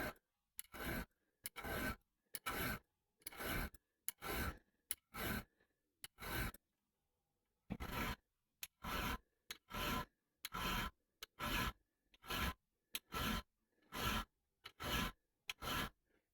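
Rhythmic hand-file strokes rasp across a metal part being fitted to latch, about twenty close, evenly spaced passes in two runs with a short pause between, loud and alone with no talking.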